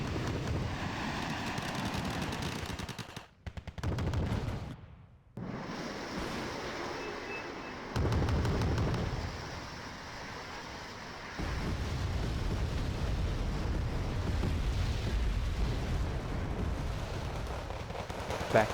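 Bombing explosions in the video game Wargame: Red Dragon, heavy rumbling booms and roaring blasts that surge and drop out in long dense waves, loud and close, with no voices.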